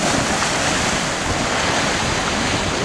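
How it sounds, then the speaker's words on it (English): Atlantic Ocean surf breaks steadily along the shore, a loud continuous wash of waves with wind buffeting the microphone and no voices. "Look at these waves."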